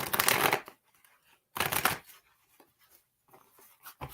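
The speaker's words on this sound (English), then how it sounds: "These cards give me shit every time I use them. They're so hard to shuffle." A deck of tarot cards being shuffled by hand, two loud riffling bursts separated by quieter handling and faint rustles, close up with no talk.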